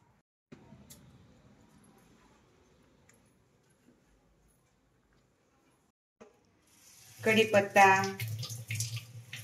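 Curry leaves, hibiscus leaves and flowers are rinsed in water, with faint handling sounds early on, then a louder burst of running water and splashing toward the end.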